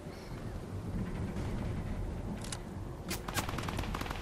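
Sniper rifle shots in Fortnite gameplay: a few sharp, loud cracks land near the end over a dense, rumbling wash of game noise.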